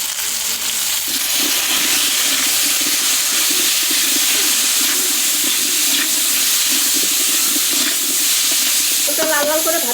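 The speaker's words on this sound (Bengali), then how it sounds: "মাছ ভাজা তেলেই আলুটা ভেজে নেব।" Potatoes frying in leftover hilsa-frying oil with turmeric and salt make a continuous loud sizzle with stirring scrapes, close and steady throughout, a few sharper clinks near the end.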